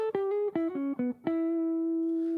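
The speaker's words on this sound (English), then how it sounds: "Here is the second lick that you want to have under your fingers that combines both the bluesy and major pentatonic." An electric guitar plays a quick lick blending bluesy and major pentatonic notes, a run of about eight clean picked notes moving downward before a final sustained tone rings out, close and alone.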